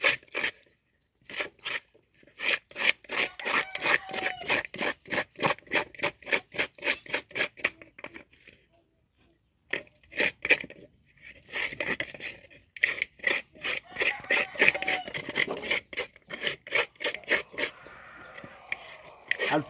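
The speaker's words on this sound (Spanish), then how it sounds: "aquí seguimos raspando para sacarle todo el tripaje." A totuma gourd has its pulp scraped out by hand, giving close rhythmic rasping strokes in quick bursts with brief pauses between them.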